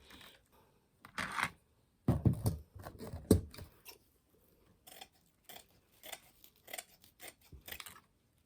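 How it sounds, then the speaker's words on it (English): Scissors cut five pieces of material for an 18-inch ruffle Christmas wreath, sounding as a series of crisp, close snips, first a few spaced cuts and then a quicker, quieter run of clicks, with no voices. "So I'm going to cut 5 pieces."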